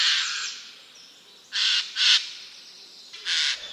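A Eurasian jay in the Bois de Boulogne, Paris, gives three harsh, rasping screeches in short bursts, loud and fairly close, with quieter chirps from other birds underneath.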